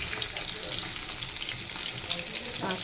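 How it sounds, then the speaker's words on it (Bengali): Fish fries in a pan in a home kitchen, a steady, dense crackling sizzle that runs throughout at close range with little change in level. "মাছটা ভালো করে ভাজতে হবে।"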